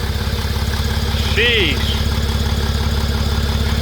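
A flooded Rocky Ridge Ram truck engine runs with a loud, steady low rumble and uneven idle, close by, with a brief rise in pitch like a small rev midway and a short exclaimed word over it.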